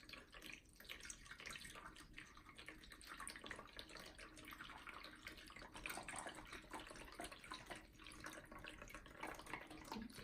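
Water poured from a cup into the bottom reservoir of a small GardenBasix self-watering pot makes a steady, continuous splashing trickle that runs close and evenly throughout, with no voices.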